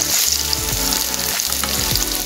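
Prawns with turmeric fry loudly in a pan in a continuous close, dense sizzle, with spatters and a few stirring scrapes throughout, and no voices.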